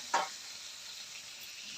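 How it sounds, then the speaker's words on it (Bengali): Food cooking in a pan in a home kitchen, a faint steady sizzle with one brief stirring scrape near the start, heard alone without talk. "তো এখানে রান্না হচ্ছে"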